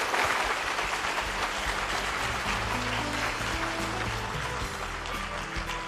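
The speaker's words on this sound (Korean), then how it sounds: "다시 한번 뜨거운 박수 부탁드립니다" An audience applauds after a keynote speech by the National Assembly Speaker, filling the room with dense, sustained clapping that slowly fades, while a low steady tone sits underneath.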